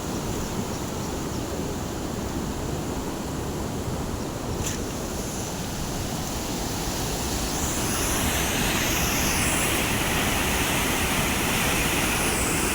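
Heavy runoff after a lot of rain rushes through a stream beside farm fields, a steady, loud, broadband roar of flowing water that holds without pause, with no one talking.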